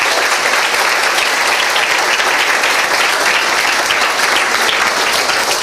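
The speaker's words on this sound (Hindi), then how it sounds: "आइए यीशु के लिए ताली बजाएंगे।" A church congregation claps for Jesus in sustained, dense applause, loud and steady throughout with no pauses.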